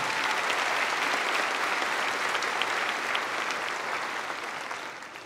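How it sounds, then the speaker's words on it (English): Graduation audience at a 2022 high school ceremony applauding faculty, friends and family: steady, dense clapping from a large crowd, sustained throughout and tapering slightly at the end. "let's give another round of applause for our faculty, friends, and family that have helped us get here today"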